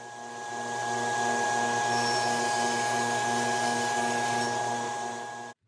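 A table saw runs through a board cutting a groove for a shaker door panel, giving a steady, even whine and hum for several seconds before stopping abruptly, close and alone without talk.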